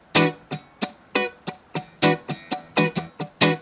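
Percussive muted funk guitar cutting strums in a steady choppy rhythm, each scratchy chuck clipped short, with brighter accented hits mixed in, played close and alone.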